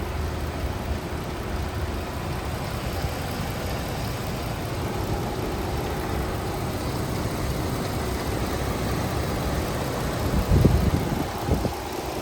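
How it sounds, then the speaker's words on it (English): Chrysler 300 Limited engine idling steadily with the hood open, a continuous low rumble and hum at close range, with a few brief louder knocks near the end. "This is the engine."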